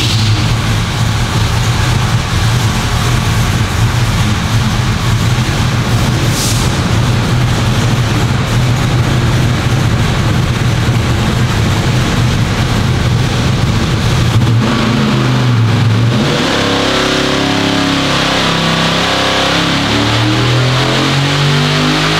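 A car engine on a dyno revs hard and steadily at close range, holding a loud, sustained drone before the pitch sweeps down and climbs again near the end; nobody speaks.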